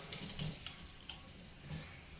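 Hot water runs steadily from a kitchen tap for cleaning oven door glass, a soft continuous splashing hiss at low level with a few brief surges and no talking.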